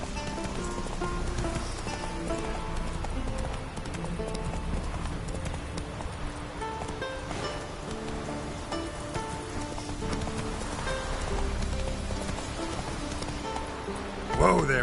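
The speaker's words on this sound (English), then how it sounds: "Whoa there, Roach" Horse hooves clip-clop in a steady trotting rhythm in The Witcher 3 video game, continuous and close, with soft rain-like patter and a voice speaking over the hoofbeats.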